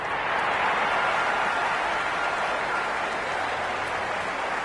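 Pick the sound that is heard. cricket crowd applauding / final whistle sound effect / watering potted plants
cricket crowd applauding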